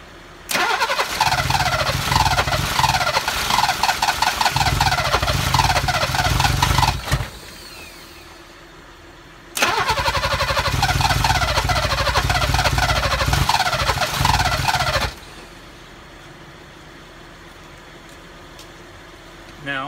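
A 1969 Mercedes 280SE with mechanical fuel injection cranks on the starter with the fuel pump off. There are two long cranking bursts of steady, rapid chugging, each about six to seven seconds, close and loud, with a quiet gap between them and no catch.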